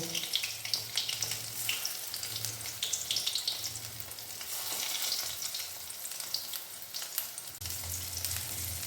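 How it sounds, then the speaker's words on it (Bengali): Drumstick flowers and green peas frying in a pan over a low flame crackle and sizzle steadily, with occasional spatters and faint stirring and a low hum coming and going underneath. "এবার আমি এগুলোকে দেখুন একটু ভাজা ভাজা হয়ে গেছে একটি, আমি আস্তে আস্তে উল্টে দেব।"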